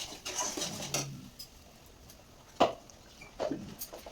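Spices are stirred and fried in a pan, giving a few sparse scrapes and clinks of a utensil against metal with quiet gaps between them and one sharp knock near the middle, all fairly soft and close.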